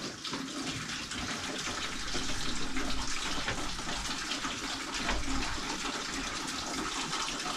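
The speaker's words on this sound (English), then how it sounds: "it's warm water. It's hot water." Hot water gushing steadily from a broken water line under a cabin floor, a loud continuous rushing and splashing flow that swells slightly midway, with no voices.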